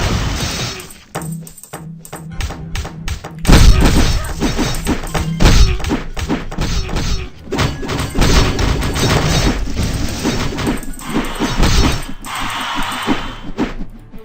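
Melee multi-hit attack in the video game Dungeon Rampage, a rapid run of loud thuds, whacks and crashing impacts layered over game music, dense and energetic for most of the stretch.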